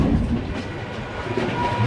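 The Kolkata-Patna Garib Rath Express, an LHB overnight train, running steadily near Dum Dum, a continuous low rumble and rattle of the coaches with faint clickety-clack, close and unbroken.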